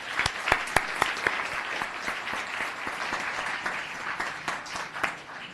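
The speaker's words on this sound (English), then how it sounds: "So one more round of applause." Applause from an audience at a city planning commission meeting, a lively patter of individual claps with distinct sharp hand strikes standing out, moderately close and continuing throughout.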